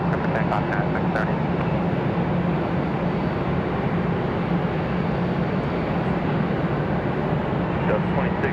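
An airliner taking off from runway 5 left at Raleigh-Durham airport, a broad steady jet roar heard from a distance, with a few brief radio chirps and bits of talk over it.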